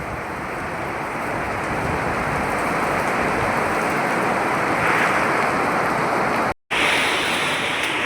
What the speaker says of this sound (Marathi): बघू शकता किती पाऊस आहे बघा